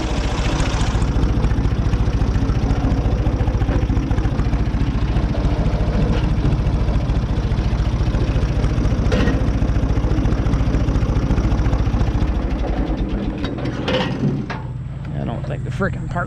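An old, worn bush hog rotary mower with a broken weld runs through a badly overgrown field, giving a loud, continuous engine drone that drops away and quiets near the end.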